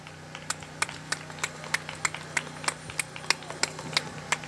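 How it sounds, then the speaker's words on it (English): A small group at a vigil for flood victims in Elizabeth, New Jersey, clapping in a sparse, steady rhythm of single distinct claps over a low background hum. "So give yourselves a round of applause"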